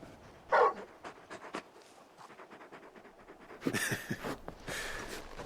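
A big dog panting in the Final Fantasy 16 video game, giving quick breathy huffs in short bursts with a few soft whimpery sounds, fairly quiet and alone with no talk.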